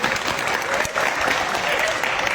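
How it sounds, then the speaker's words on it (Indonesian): Steady, dense crowd applause from an audience at a company's 21st anniversary celebration, loud and continuous throughout with a brief dip near the middle, with no clear talk over it. "Mohon untuk tepuk tangannya untuk memeriahkan acaranya."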